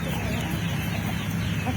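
Free-range village chickens cluck in a dense, continuous flock murmur, steady and moderately loud, with no talk over it.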